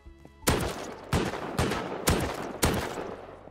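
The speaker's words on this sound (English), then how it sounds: "Shots fired." Gunshots in a video game, five sharp, evenly spaced shots, each with a decaying tail, after a brief quiet start.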